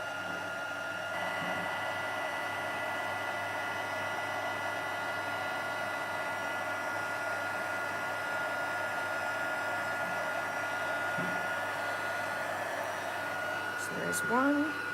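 A heat tool melting embossing powder for a card gives a steady, loud, airy blowing whir that runs unbroken throughout, with a voice speaking faintly beneath it and a brief clatter near the end.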